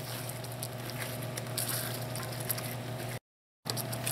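Cauliflower florets being stirred into sauce in a pan, giving soft wet squishing and light sizzling patter at low level, with a short silent gap near the end.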